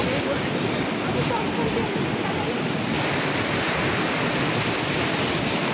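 Icy mountain stream in Kharma Valley near Manali, rushing water heard as a dense, steady roar close to the microphone, unbroken throughout, with no talk.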